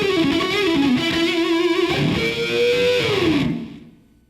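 Distorted electric guitar playing a smooth sustained melodic line with bends and slides, loud and close, notes ringing before fading out at the end.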